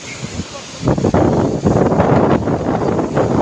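Strong wind blowing on a seashore where fishermen haul nets, a loud, continuous broadband rush that swells after the first second and stays heavy, with faint voices underneath.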